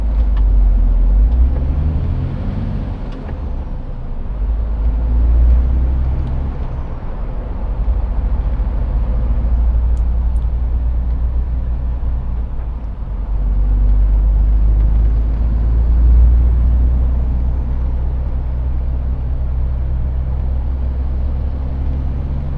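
Heavy, slow-moving traffic on the M60 motorway near Manchester, a steady low rumble of cars, buses and lorries with occasional air-brake hisses, close and loud throughout with no talking.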